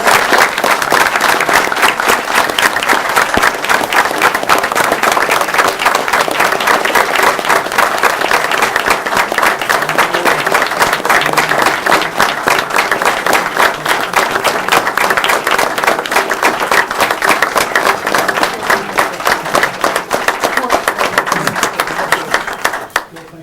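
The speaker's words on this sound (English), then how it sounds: "One more round of applause." Applause at a city council meeting, a long run of sharp, closely packed claps from the room that holds steady and loud before tapering at the very end.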